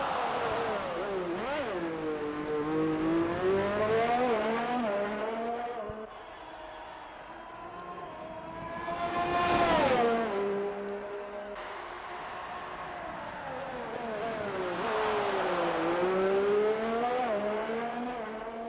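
Race car engines scream around the Red Bull Ring in Austria in a racing video game, rising and falling through gear changes as cars pass, with a commentator talking faintly underneath.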